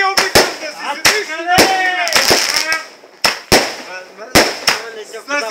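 Fireworks and firecrackers go off close by in a rapid, irregular series of sharp loud bangs and crackles, while people shout and talk excitedly between and over the blasts.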